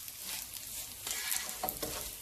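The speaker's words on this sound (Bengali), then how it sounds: "চালগুলোকে ভালো করে একটু ভেজে নিই।" Polao rice grains frying in a pan, a steady crackling sizzle with scraping stir strokes, close and fairly loud with no one talking.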